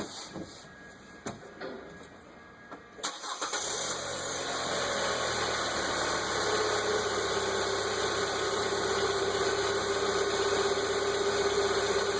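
A 2014 Kia Soul engine cranks and catches after a few quiet seconds, then settles into a steady, even idle that runs on loud and close with a constant hum, without talk.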